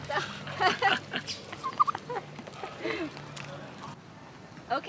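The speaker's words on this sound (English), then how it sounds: "Some turkeys, some ducks, chickens." Chickens cluck in short, scattered bursts at close range, mixed with other quiet farmyard sounds.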